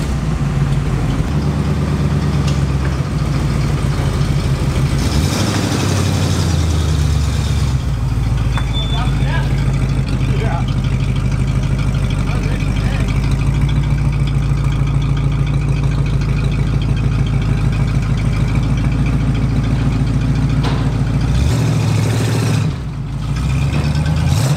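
A Jeep Laredo engine idles steadily with a low, continuous rumble throughout, while people talk over it nearby.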